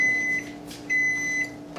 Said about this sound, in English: making sure that as little heat gets out of that microwave as possible